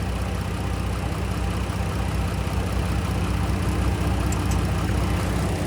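A 2011 Chrysler Town and Country with a 3.6 liter engine is being driven, giving a steady, even drone of engine and road noise throughout with no talking.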